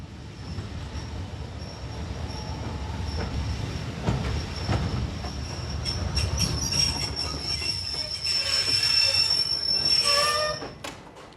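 A train rolls along the rails toward Victoria, its steady rumble and clatter rising to loud, high-pitched wheel squeals near the end before cutting off. No one speaks.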